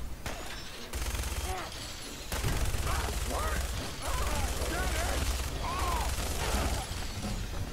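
Sustained gunfire and rattling automatic bursts in the video game Fallout 4, dense and loud throughout, with a voice speaking over the shooting.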